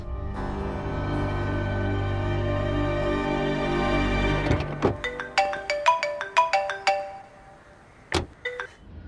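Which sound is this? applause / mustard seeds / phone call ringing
phone call ringing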